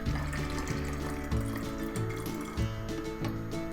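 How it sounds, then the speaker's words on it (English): Water pours out through a small hole blown in a plastic bottle, a steady continuous splashing trickle that runs throughout, close and moderately loud, with no voices. "You can see water is coming out."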